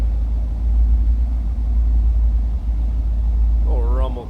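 Deep steady idle rumble from the 5-liter high output V8 of a 1984 Pontiac Firebird Trans Am, loud and close, continuous low-end throb, with a voice speaking briefly at the end.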